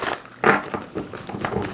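A deck of tarot cards being shuffled, heard as quick papery crinkling and riffling bursts, close and fairly loud, with no talking.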